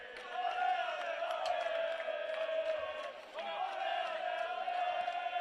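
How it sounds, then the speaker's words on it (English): Football supporters at an Auckland City Chatham Cup semi-final against Wellington Olympic chant and sing in sustained, tonal unison, a distant but full crowd roar with a brief dip midway. "There's plenty of noise up in the crowd as always for Auckland City."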